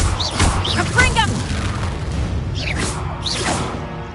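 Spell blasts in the Hogwarts Legacy video game: a quick run of booming bursts and swooshing magical whooshes, two clusters with a lull between. A voice calls out during the barrage.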